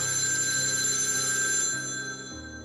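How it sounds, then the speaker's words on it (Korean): A telephone bell rings steadily and clearly for about two seconds, then drops away and quiets toward the end, with no voices. "그 순간 전화벨이 다시 울렸습니다"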